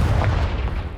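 A Confringo blast spell in the Hogwarts Legacy video game lands as one dense, booming burst that rumbles loudly throughout the second, with no one talking.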